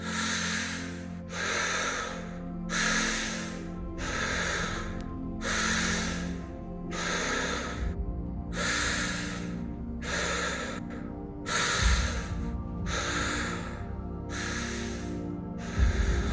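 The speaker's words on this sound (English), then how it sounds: "Just keep going like that, keep breathing like that." Deep, forceful breaths during a breathwork session repeat in a steady rhythm, each a loud rushing inhale or exhale lasting about a second, close up, with a continuous soft drone underneath.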